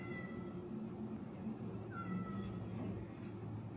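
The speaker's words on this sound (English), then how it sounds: "You might hear a cat meowing. That's my cat trying to get into the kitchen" A cat meows a few times, faint and somewhat distant, drawn-out cries from another room near a kitchen, over a low background hum with no talking.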